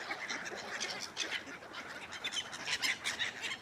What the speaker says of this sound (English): look at all these birds here